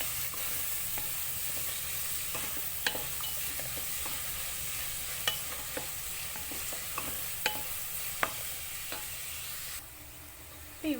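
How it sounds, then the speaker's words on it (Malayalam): Onions sautéing with a pinch of salt in a pan, stirred steadily: a continuous soft sizzle broken by scattered clicks and scrapes from the spoon, heard close up with no talking. "നല്ലോണം വഴറ്റിയെടുക്കാം."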